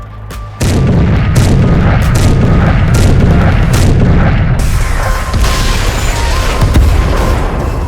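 Explosions and artillery fire in a Soviet defense strategy game, a loud continuous barrage of booming blasts and pounding shots that starts abruptly and keeps rumbling densely throughout, with no talking.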